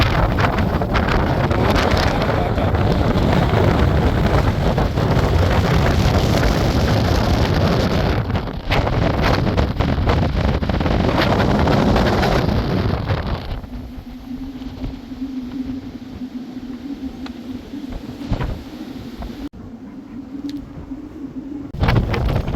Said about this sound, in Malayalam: കാറ്റിനെ തടുക്കാൻ പറ്റുന്നില്ല മക്കളെ, വല്ലാത്ത കാറ്റ്.